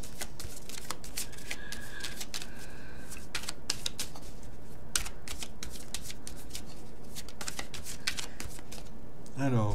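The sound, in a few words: shuffling tarot cards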